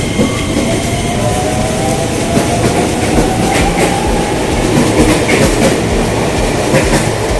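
A commuter train rumbles loudly past at a station in Depok, Indonesia, with steady clickety-clack of wheels and a faint metallic squeal, continuous throughout.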